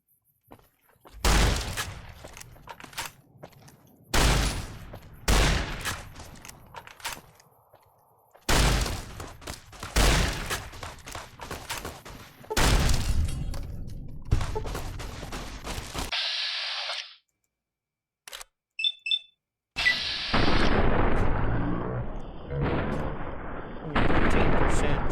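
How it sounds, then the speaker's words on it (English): Gunfire in the video game Fallout New Vegas, a series of loud, sharp shots in separate bursts with echoing tails, then brief faint clicks and more shots toward the end. "Did I just hear gunshots? Or bullets just whizzing by me?"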